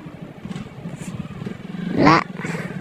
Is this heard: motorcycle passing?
yes